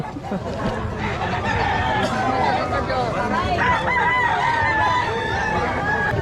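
Roosters crow repeatedly at a busy chicken market in Lemery, Batangas, several calls overlapping with clucking fowl, while a crowd murmurs and voices chatter throughout at a steady, loud level.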